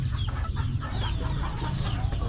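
Several chickens, including a silkie, cluck and chatter nonstop close by, over a low steady background rumble.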